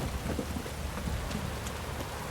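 Rain falling in The Witcher 3: Wild Hunt, a dense, steady hiss of downpour with low rumbling underneath, loud and enveloping throughout without any voices.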